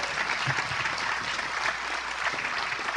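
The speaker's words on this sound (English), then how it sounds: "we should give her a huge round of applause for her continuous, sustainable" An audience at a global biodiversity summit applauds in a steady, full round of clapping, with faint crowd murmur beneath it.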